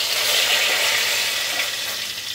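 Bay leaf sizzling in hot oil in a wok, a loud, dense, steady crackle close by that eases slightly toward the end, with no talking.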